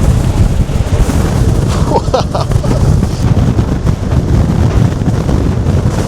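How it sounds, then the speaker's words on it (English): Strong wind in the Lofoten Islands, Arctic Norway, buffets the microphone in a constant loud roar, with gusty rumbling throughout and no clear voices. "I cannot tell you how windy it is out here"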